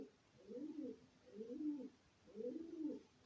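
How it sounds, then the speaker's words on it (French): A pigeon perched on a rooftop coos in three soft, rolling phrases, evenly spaced and fairly faint, heard alone over quiet indoor background. "je ne sais pas si vous entendez le pigeon."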